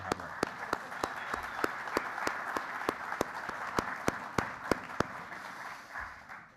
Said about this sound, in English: So, really I want to give a round of applause to Monica for all of her hard work.